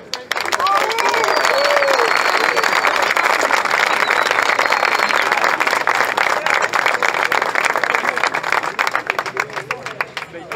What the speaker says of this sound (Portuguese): Deixa uma salva de palmas muito grande para a terceira divisão que criou essas condições